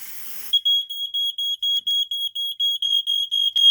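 Mastercraft (Dicon 350 rebrand) and Dicon Model 300 smoke alarms shrieking together in a rapid, loud, piercing string of even beeps right up close.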